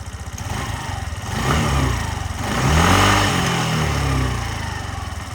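A Suzuki Address V125 S scooter engine idles steadily nearby, a continuous buzzing putter with slight rises in revs, no voices.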